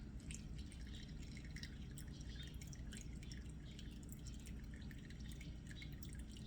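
Whey drips and trickles steadily through a cloth towel while draining fresh cottage cheese, a continuous soft patter of many small drops close by, with no talking.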